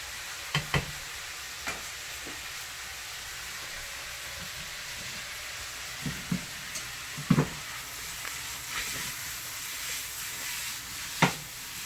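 Frozen chunks frying in a thin layer of avocado oil in pans, a steady soft sizzle broken by scattered clicks and scraping knocks as the pieces are stirred and broken up, no talking.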